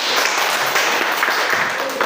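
A classroom of students claps together after a group presentation, a dense, steady wash of many hands that holds level throughout, close and fairly loud, with some chatter mixed into it.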